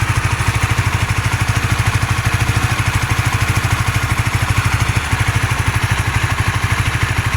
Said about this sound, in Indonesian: Suara mesinnya kayak gini.